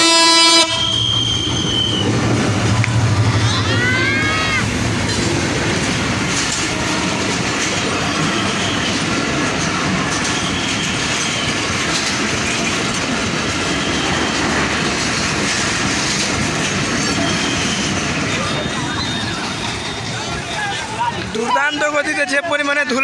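The Titumir Express, led by a diesel locomotive, rushes past at speed, close and loud, with a continuous rumble and rail clatter, horn blasts near the start, and the roar cutting off abruptly at the end.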